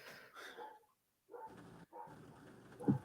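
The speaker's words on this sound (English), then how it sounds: "apologies if you can hear my dogs barking." Pet dogs bark in a short, scattered run somewhere in the house, with growly and yipping tones mixed in, not very loud and broken by brief pauses.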